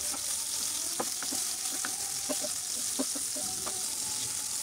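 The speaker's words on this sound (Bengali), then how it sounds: "তেল দিয়ে এখন বেগুনগুলো খুব ভালোভাবে ভেজে নিচ্ছি।" Thick eggplant slices sizzle in mustard oil in a covered pan. The frying hiss is constant and close, dotted with light crackles and soft utensil taps.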